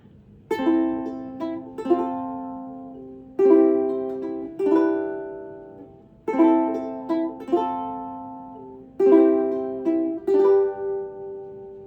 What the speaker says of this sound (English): kind of combining the first strumming pattern with a little bit of finger picking